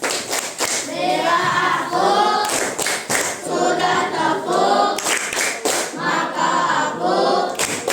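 Pupils in a classroom perform the rhythmic "tepuk diam" clapping routine, loud and close, in repeated patterned bursts with brief pauses, accompanied by children's voices chanting along.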